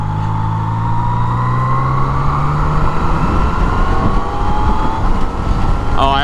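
A 2018 Yamaha MT-09 motorcycle fitted with a factory quick shifter rides through town in Henderson, Las Vegas, its engine note climbing steadily under wind rush, loud and close, with a sharp chirp near the end.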